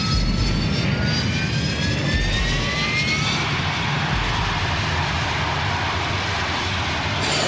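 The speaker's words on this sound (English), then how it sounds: "The Prowler, call sign EZ01, approaches the runway. EZ01, you're cleared for takeoff." An EA-6B Prowler military jet taking off, a loud continuous jet roar with a rising engine whine that stays steady and close throughout, no voices.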